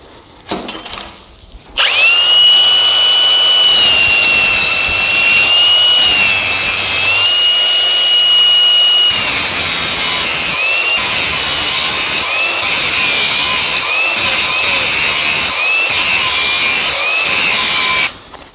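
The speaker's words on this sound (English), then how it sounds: "let's just give it a quick grind" A grinder sharpens a Cub Cadet lawn mower blade clamped in a vise with a loud, sustained metallic whine lasting about sixteen seconds, briefly dipping in pitch and level as the tool is pressed and shifted along the edge.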